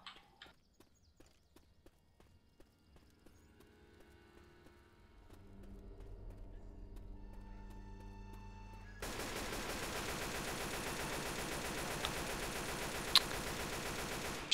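An AK rifle fires in Left 4 Dead 2, starting as scattered sharp shots over quiet game sounds and building into dense, rapid automatic bursts layered over a loud droning background.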